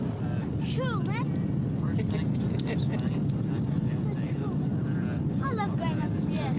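easyJet airliner engines roaring steadily through the takeoff roll, a constant loud broadband rush with wind buffeting, while people talk over it in the cabin.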